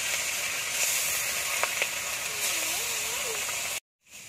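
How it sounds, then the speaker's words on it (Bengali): Fish frying in a pan gives off a steady, close sizzle and hiss with occasional crackles, ending in a brief cut to silence. "বাকি মাছগুলো ভেজে নেব।"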